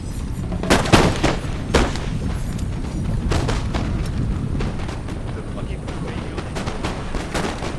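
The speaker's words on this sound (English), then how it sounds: "this guy is shooting the hill" Musket volleys from infantry battling on a hill in the Napoleon Total War video game, a few sharp cracks near the start and scattered shots after, over a constant roar of battle, with a voice talking throughout.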